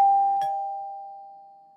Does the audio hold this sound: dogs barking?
no